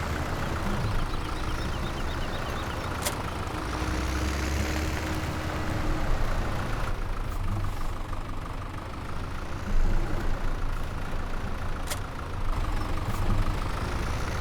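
Small tractor engine in Farming Simulator 17 drives along with a steady low rumble and mid-range drone, holding a constant near, moderately loud level with slight surges in revving throughout.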